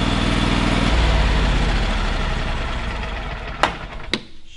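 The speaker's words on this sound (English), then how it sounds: "Let's shut this engine down." A Miller Trailblazer 325 welder generator engine runs with a steady low rumble that fades and winds down, followed by a couple of sharp clicks near the end as it shuts off.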